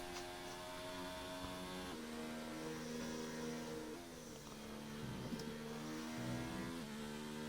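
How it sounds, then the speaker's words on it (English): Simulated race car engine in a racing video game at the Russian GP, revving hard in repeated rising and falling sweeps with a glitchy, stuttering quality, loud and continuous, with faint game commentary and no clear speech. "he's got that revving glitch"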